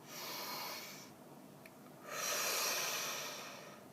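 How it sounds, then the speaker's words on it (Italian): A slow, deep breath taken close to the microphone, a long airy inhale followed after a short pause by a fuller, louder exhale, with no talking. "facciamo un bel respiro profondo"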